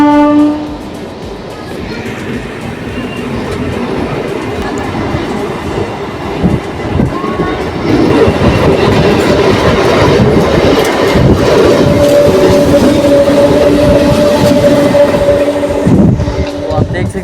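A MEMU local train passes through Kashi railway station on the line toward Varanasi Junction, heard from aboard another stopped train: loud rolling rumble and wheel clatter, squealing tones, and a brief horn, building toward the end.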